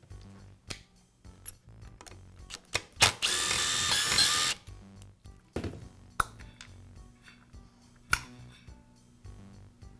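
A power driver backing out the screws on the expansion chamber cover of a Skilsaw circular saw, brief bursts of whirring close up, one longer spin in the middle, with clicks and handling noises between.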